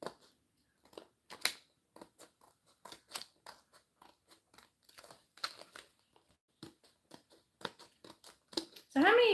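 Scissors snip through material for a mason jar craft sign in a run of short, close cuts, each a crisp click or crunch with brief gaps between, ending in a louder burst of sound.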